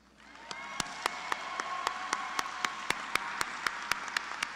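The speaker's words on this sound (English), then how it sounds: "Now the applause." Applause rises from a commencement ceremony crowd at Central Connecticut State University, a steady wash of many hands with sharp, evenly spaced louder claps punctuating it throughout.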